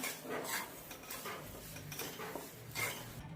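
Semolina and moong dal being dry-roasted and stirred in a pan for sheera: a faint, continuous gritty rustle with soft scraping strokes of a spoon across the pan, quiet and close, no voices.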